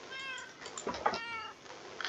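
Several cats meowing in a survival video game, with repeated harmonic mews overlapping at close range against a soft background hum; no talking.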